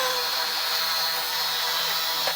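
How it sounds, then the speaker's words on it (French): Electric hair clippers buzz steadily while cutting a fade, a constant close mechanical whine that stays even for the whole moment, with no speech. "C'est une tondeuse, frérot."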